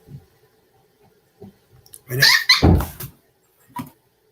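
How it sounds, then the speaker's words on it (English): Dogs outside the room bark and growl, a short burst of loud, rough barking and snarling in the middle, with faint clicks and scuffs before and after. "my dog's going to start howling because one of the dogs outside of the room is causing trouble"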